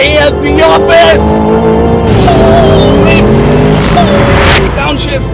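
A 2025 Aston Martin Vantage in Sport Plus mode revs hard and accelerates, its loud, close engine note climbing and shifting through gears, with a voice talking over it.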